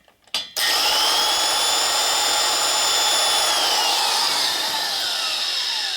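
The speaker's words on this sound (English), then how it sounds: "Stone's loading up, it's doing more polishing and cutting." A grinding stone polishes the cylinder head of a 1977 Harley-Davidson XLCR 1000cc Sportster ironhead, a sharp start followed by a loud, steady high-pitched whine with a gently sliding tone.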